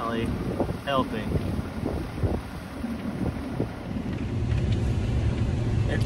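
Wind buffets the microphone outdoors in an open field, a steady rushing roar that builds toward the end, with a few faint distant calls scattered through it.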